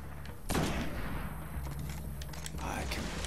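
Gunfire in the shooter Destiny, with a sharp shot followed by quieter repeated rapid fire in the background, and a voice talking over it.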